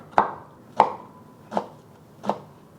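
A knife cuts an English cucumber into julienne strips on a board, four distinct sharp chops spaced roughly evenly apart, close and clear against near silence.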